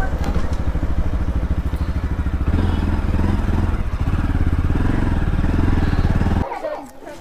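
A motorbike engine drones loud and close while being ridden, a steady throbbing hum with slight revs that cuts off abruptly near the end, leaving faint background noise.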